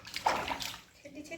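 Water is poured and sloshes in a domestic setting, a brief, close splashing stream that rises and then tapers off.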